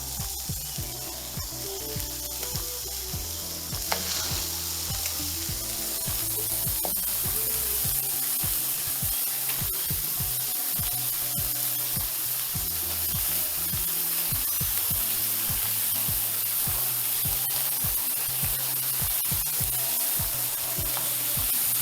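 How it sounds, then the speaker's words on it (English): Beef burgers sear on a hot pan with a steady, close hiss and crackle of sizzling fat that continues throughout, with low background music beneath and no talking. "We want it nice and hot so the burgers can sear on either side. Listen to that sound."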